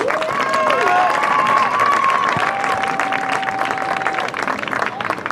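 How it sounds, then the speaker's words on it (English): A crowd of spectators applauding the seniors at a high school soccer senior night, with dense sustained clapping and some cheers and whistles, loud and continuous throughout. "Let's give them one big last round of applause for all they've done"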